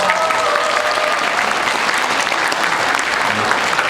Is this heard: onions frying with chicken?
no